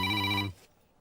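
A telephone rings in a Telugu film scene, a loud steady electronic ring with bright harmonic tones that stops abruptly halfway through, leaving near silence.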